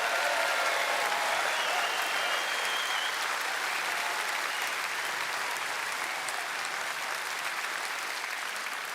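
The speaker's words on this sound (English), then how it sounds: "Give Richard a round of applause." Conference audience at a Reform UK party gathering applauds Richard with sustained, dense clapping that holds steady and fairly loud throughout, no voices standing out.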